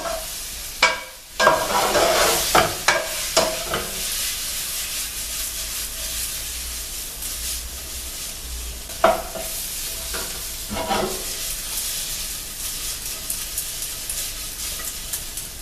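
Pieces of tenderized steak fry in a hot pan. The hissing sizzle is loud at first, with several bursts and stirring clatters, then settles into a steadier, quieter frying sound.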